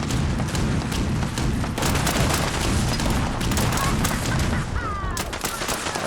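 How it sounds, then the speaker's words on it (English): Gunfire in Fallout 76 rattles almost nonstop, dense rapid shots crackling loudly over a constant noisy background, with bursts blending together for several seconds. "who is shooting at us up here?"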